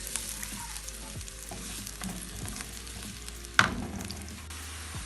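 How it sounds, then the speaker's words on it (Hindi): Chopped onions fry in oil in a pan with a steady, close sizzle and crackle, and a brief loud clatter lands near the end; nobody speaks. "अब इसमें मैं ये प्याज कटे हुए डाल रही हूँ।"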